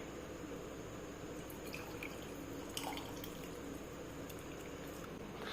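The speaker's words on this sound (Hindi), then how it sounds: "अब मेरे को अपने काढ़े को छन्नी में छान लेना है।" Neem and giloy herbal decoction is poured through a kitchen strainer, a faint, steady trickle with soft drips and splashes of liquid falling into a glass.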